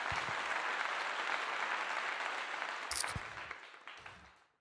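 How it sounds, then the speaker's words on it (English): Applause from a crowd claps steadily and densely for about four seconds, then thins into a few scattered claps and fades out. "round of applause for that."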